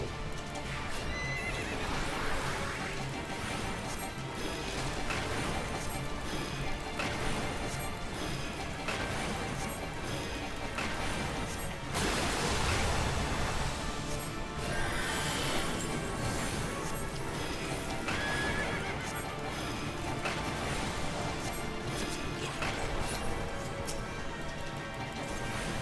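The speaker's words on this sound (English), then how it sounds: "That's a horse." A kelpie horse in Final Fantasy XIV neighs repeatedly over continuous clip-clopping hooves, amid dense, loud game sound effects and music throughout.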